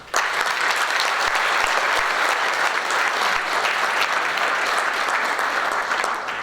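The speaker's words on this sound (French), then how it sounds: "les applaudir." An audience at a bread-festival prize-giving ceremony breaks into loud, sustained applause, a dense, even wash of clapping that carries on steadily to the end.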